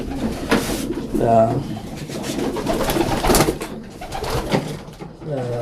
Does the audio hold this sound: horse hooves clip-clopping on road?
no